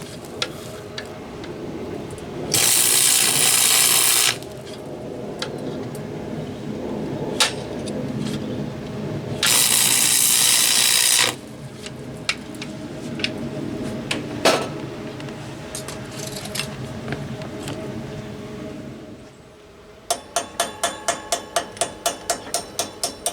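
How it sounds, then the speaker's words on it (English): Sharp metal taps chipping slag off a fresh stick weld, made with an arc welder, come as a quick rhythmic run of about a dozen clicks near the end, after long stretches of workshop hum and two bursts of loud hiss. "What I'm doing now is I'm tapping to break the slag off the weld."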